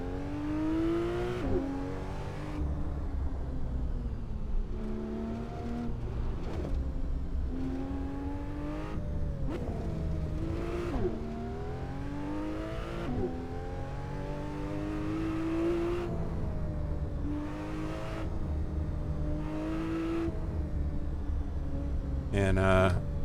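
A car engine in the racing simulator Assetto Corsa climbs a hillclimb road, repeatedly revving up through gears with sharp shift drops, rising and falling in pitch throughout, with a voice talking over parts of it.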